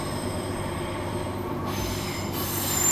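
A Transperth A-train on the Fremantle line around Perth, its wheels squealing steadily with a high metallic whine over loud, continuous rail rumble, heard from on board with no talk.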